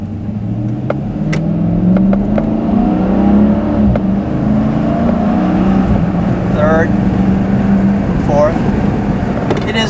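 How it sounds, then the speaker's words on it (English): A 2013 Dodge Charger SRT8 Super Bee accelerates from first gear using paddle shifters, steady loud engine drone with rising tone, heard from inside the car with someone talking over it throughout. "I just want to show you the paddle shifters one last thing. Starting in first with the shifter."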